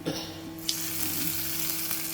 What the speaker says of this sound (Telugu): సో తాలింపు అయితే పెట్టేసాము